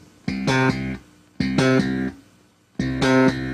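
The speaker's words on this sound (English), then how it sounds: "So we're just going to play some simple octave exercises using some of the right hand rhythms that we talked about previously." Slap bass octave exercise: three repeated phrases of two long notes into a short one, bright and percussive, played close and clean with no voices.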